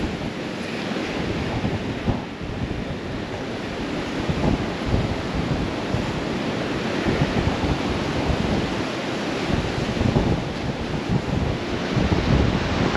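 Ocean surf rolls onto a rugged rocky beach in Newfoundland as the tide comes in strong. A steady, loud roar of breaking waves carries on without a break, with wind buffeting the microphone and no voices.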